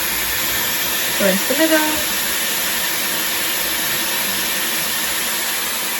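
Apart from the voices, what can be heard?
Dyson Airwrap hair styler running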